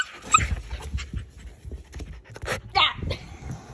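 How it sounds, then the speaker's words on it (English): A playful dog whimpers and pants close by, with short whiny yips and breathy huffs over scuffling movement, while a person talks nearby. "Dog wants to play, cat does not."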